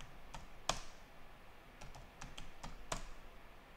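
A new password being typed on a computer keyboard: a handful of light, quiet key clicks come in irregular bursts with short pauses over a soft room hiss.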